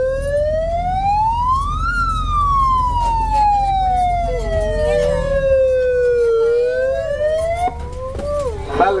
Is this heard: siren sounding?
yes